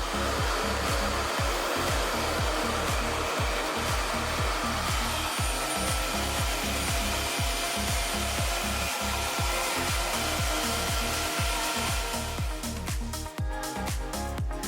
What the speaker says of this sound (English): I'm gonna go ahead and start using the blow dryer